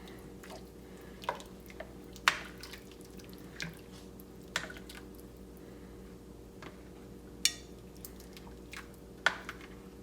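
Curry simmering with coconut milk is stirred with a utensil, giving scattered soft wet drips and gentle clicks against the pot over a low steady background hum.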